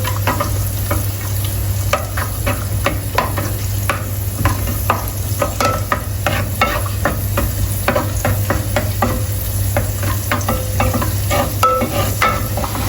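Onions fry in coconut oil inside a clay pot, a steady close sizzle with a spoon scraping and stirring in frequent irregular strokes throughout, no voices.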